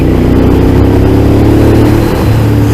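A Ducati Monster 821 motorcycle engine drones loud and close as the bike accelerates, a steady, dense roar with no voices over it.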